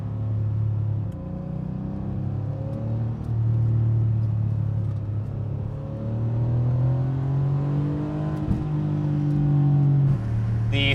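Rear-engined Porsche 911 of the 964 generation driving, its engine a steady low drone with rising and falling pitch as throttle changes, fairly loud and close throughout with no voices.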